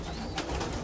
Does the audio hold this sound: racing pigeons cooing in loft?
yes